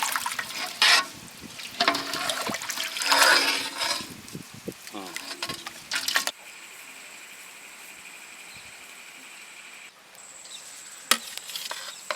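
Water is poured onto rice in a pot for Kerala-style Malabar chicken biryani, with a steady liquid rush after some earlier stirring and clatter, close and fairly loud.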